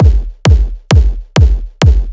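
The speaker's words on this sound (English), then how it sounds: "This is the hard style kick" A punchy, distorted hardstyle kick drum hits five times at an even, fast tempo, each a loud thump with a sharp click and a deep pitch-dropping tail, played alone.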